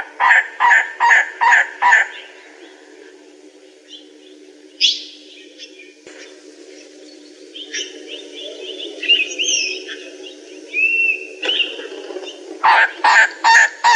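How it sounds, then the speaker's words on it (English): Elegant Trogon coink calls from a recording, a series of about five loud, harsh barking notes, then a quieter stretch of softer calls and twittering, and another run of barking notes at the end. "here is the coink call that carries the furthest"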